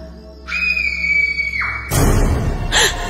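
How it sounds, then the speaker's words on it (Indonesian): A woman's loud, shrill scream rings out in a ghost story at a boarding house, first a sustained high piercing wail, then a noisy, harsh burst with a second brief cry near the end. "ada suara jeritan yang terdengar nyaring"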